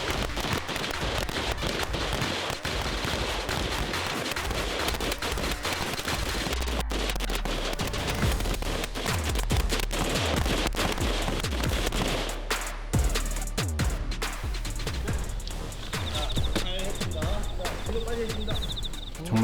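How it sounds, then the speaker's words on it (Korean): Dense, rapid gunfire rings out from a military live-ammunition shooting drill during a counter-terrorism exercise, sustained bursts of loud cracks overlapping throughout, with speech layered over the shooting. "이어지는 실탄 사격 훈련"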